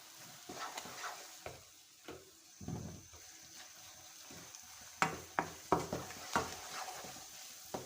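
Suji halwa roasting in ghee in a pan: a soft, low crackle under repeated scraping and stirring strokes that grow more rhythmic in the second half, all fairly quiet and close.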